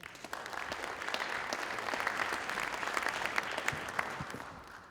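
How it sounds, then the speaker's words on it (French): Applause from a seated audience opening a conference session on future housing in France, brisk, steady clapping with distinct individual claps throughout, holding at moderate level for the full few seconds before trailing off. "de bien vouloir ouvrir cette séance sous vos applaudissements,"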